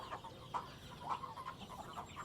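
Hens cluck in a short run of soft, rhythmic calls close by, with no voices over them.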